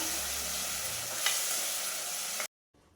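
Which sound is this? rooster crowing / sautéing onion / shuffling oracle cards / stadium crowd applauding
sautéing onion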